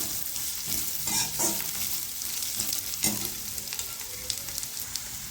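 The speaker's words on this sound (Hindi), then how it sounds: "तो 1 से 2 मिनट के लिए हम गाजरों को इसमें अच्छी तरह से पहले पका लेते हैं।" Carrots cook in a pan for tricolour vegetable pulao, giving a steady close sizzle broken by several scraping stirs and clinks of a spoon, with no talking.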